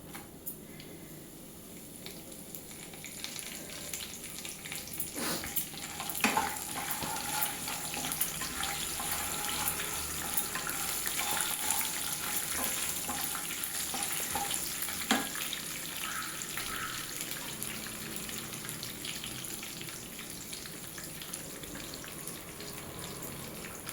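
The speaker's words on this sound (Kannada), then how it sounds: "ಹಾಗೆ ಕರಿಬೇವಿನ ಸೊಪ್ಪು ಹಾಕ್ಕೊತಾ ಇದ್ದೀನಿ." Curry leaves and a chilli crackle in hot oil for a tempering for puliyogare gojju, a continuous hiss and sizzle with occasional sharper pops and stirring scrapes, sounding somewhat watery and steady.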